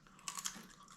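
Takis Fuego rolled tortilla chips crunched between the teeth: a short burst of two or three crisp, close bites, fairly soft overall, with no talking.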